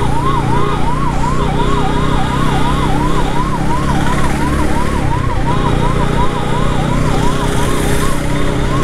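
An ambulance siren wails loudly on a road in Vizag, its rapid rising and falling yelp repeating steadily and close for several seconds above traffic noise, heard from a rider on an Apache RTR 200 motorcycle.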